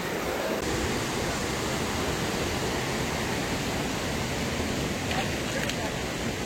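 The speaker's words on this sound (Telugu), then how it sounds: "ఒక్కసారి వాటర్ ఫ్లో చూడండి ఎంత ఫోర్స్గా ఉందో అసలు" Rushing water roars in a constant, dense wash of noise from the powerful Hogenakkal Falls on the Kaveri River in India, heard nearby.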